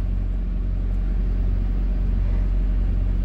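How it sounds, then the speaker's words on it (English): A truck engine running at a steady idle after being started, a loud, close, even low rumble with no change in pitch and no talking. "get in your truck, put the key in, crank it up"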